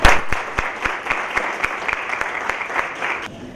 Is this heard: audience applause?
yes